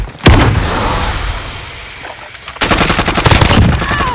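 Gunfire in Call of Duty: Warzone, a close, loud single burst followed by rapid automatic fire and a dense stream of shots in the final seconds.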